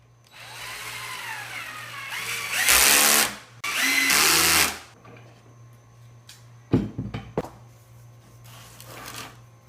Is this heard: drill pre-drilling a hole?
yes